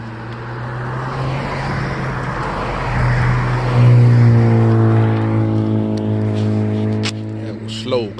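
Sports cars, a Lamborghini among them, roar past on the Tail of the Dragon mountain road on a cool November day, one engine loud and close with rising revs, while someone talks nearby.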